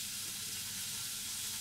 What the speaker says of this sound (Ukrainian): Поки у нас колбаса жариться